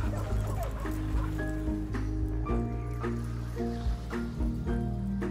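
Sled dogs barking and whimpering in the video game The Red Lantern, set in the Iditarod dog sled race, with repeated yips and whines over a steady background of game music.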